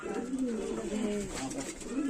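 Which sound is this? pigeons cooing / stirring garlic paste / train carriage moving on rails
pigeons cooing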